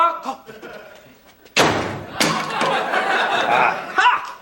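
A door slams shut with a sharp, loud thud after a quiet stretch of voices, followed by ongoing chatter and chuckling in the room.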